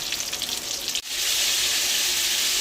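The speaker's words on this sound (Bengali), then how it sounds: "পটলটাকে ভেজে নিই।" Pointed gourd (potol) frying in hot oil in a pan, a loud continuous hiss and crackle with a brief dip near the start before the sizzle swells and holds steady.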